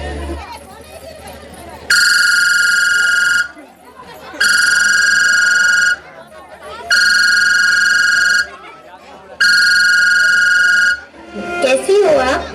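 A telephone rings four times in a home, each long electronic trill lasting about a second and a half with even pauses between, loud and close over faint background voices.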